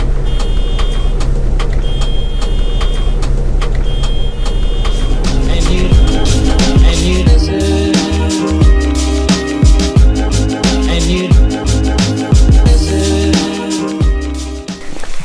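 A bus drives through a bear-viewing wilderness area, its engine rumbling loudly and steadily with clattering and bumps from the road, a few high electronic beeps early on, and no talk.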